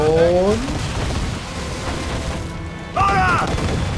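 Ship cannons fire in the pirate video game Assassin's Creed 4 Black Flag, with deep booms and rumbling blasts that roll on beneath shouted voices in the game.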